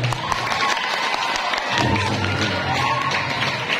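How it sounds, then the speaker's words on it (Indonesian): Seminar audience clapping for a young ustadz introduced on stage, a dense wash of applause mixed with crowd chatter, with a voice speaking over it partway through. "Tepuk tangan untuk beliau"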